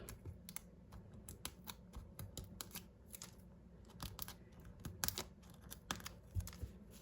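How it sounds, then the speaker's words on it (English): Backing is peeled off foam adhesive dimensionals for card making, making quiet, close crinkly ticks and crackles in an irregular run. "I just gotta peel them all off."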